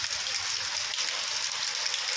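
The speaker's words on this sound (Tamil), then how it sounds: "3வது மாடியில் தண்ணியை பாருங்கள் எப்படி விழுது பாருங்கள்" Heavy rain pouring onto a third-floor terrace in Karaikudi, a steady, dense hiss of falling water that holds evenly throughout with no break.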